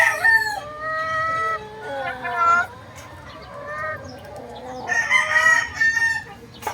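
A yellow-legged hatch gamefowl rooster crows repeatedly nearby, loud drawn-out calls separated by short pauses, with faint clucking between them.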